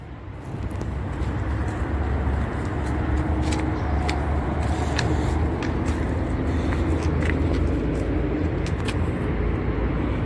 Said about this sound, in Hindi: थोड़ा सा जर्किंग और हंटिंग है और मिसफायर है गाड़ी में